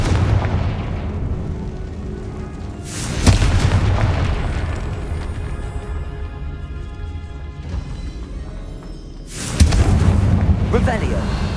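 Two loud, booming blasts from the Confringo spell in Hogwarts Legacy, spaced several seconds apart, each bursting out of a steady, rumbling game background.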